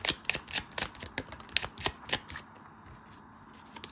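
A deck of tarot cards is shuffled and cards are drawn during a reading, with a quick run of close, crisp riffling snaps that fades into a quieter soft rustle.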